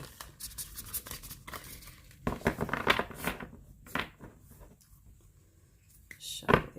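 Oracle cards from a shaman oracle deck being shuffled by hand, irregular papery riffling and sliding bursts with short pauses between, close and fairly quiet.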